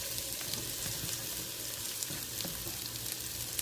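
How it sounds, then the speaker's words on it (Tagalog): Onions frying in a pan for an okra dish, a steady close sizzle with faint crackles running evenly throughout, no voices. "Pa-fry ko na yung sibuyas."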